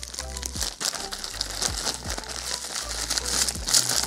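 Crinkly plastic packaging from a Wish order holding Thug Life sunglasses is torn open and unwrapped, close-up, with steady crumpling and crackling throughout and a few sharper rips, no talking.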